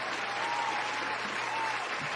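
A live studio audience claps steadily and evenly throughout, a dense, sustained wash of applause with no voices on top.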